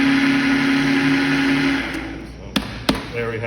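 A food processor whirs steadily as it chops vegetables for a sofrito, a loud continuous motor hum that cuts off partway through, followed by a couple of sharp knocks from the machine.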